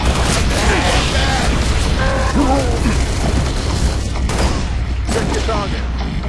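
Dense, loud gunfire from a Halo Reach firefight crackles without a break, mixed with clanking hits and booms, while voices speak over the din.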